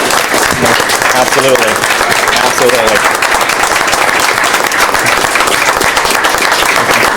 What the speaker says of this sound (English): Let's give these young men a round of applause for their community.